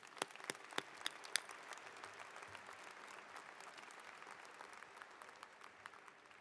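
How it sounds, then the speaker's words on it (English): A commencement ceremony audience at the University of Idaho applauds in a dense, steady wash of clapping, with a few sharper claps standing out at the start, heard from some distance. "Let's give them a round of applause as well."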